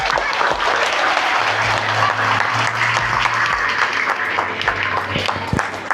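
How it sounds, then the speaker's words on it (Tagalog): A church congregation claps steadily and densely at a Simbang Gabi dawn Mass, the sustained applause filling the space with scattered voices mixed in. "Dapat, pag pumapalakpak kayo para sa Diyos, sa taas."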